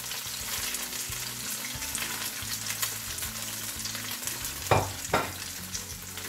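Cabbage stir-frying for chicken chow mein, a loud continuous sizzle with a low burner hum beneath and two sharp scrapes of tossing near the end.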